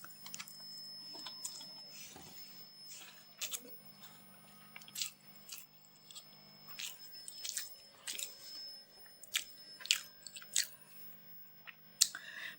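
Close, quiet chewing of chicken and potato biryani, with soft wet squishes and bites in an irregular rhythm over a faint background hum.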